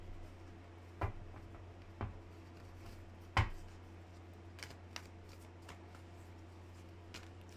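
A metaphysical tarot card deck being shuffled and handled, soft papery riffles and a few sharp taps as cards are squared, faint and close over a low steady hum.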